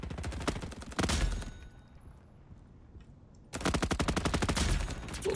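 Automatic gunfire in a Roblox war video game: two loud rapid bursts of fast repeating shots, separated by a couple of seconds of near quiet, the second burst longer and steady.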